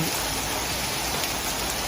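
Rain falls steadily and close by, a dense, even hiss of drops on surfaces with no let-up.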